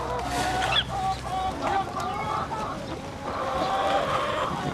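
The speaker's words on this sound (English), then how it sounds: "But the chickens are right in there." Hens cluck and murmur in a coop on a farm in Bolinas, California, with scattered calls rising and falling over a steady background hum.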